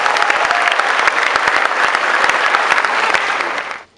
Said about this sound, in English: can we have a huge round of applause for all of them first?